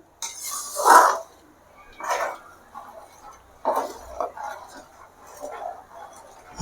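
A spoon stirs turkey berry curry (sundakkai kuzhambu) in a pot, giving a few separate clinks and scrapes against the metal with quiet gaps between them.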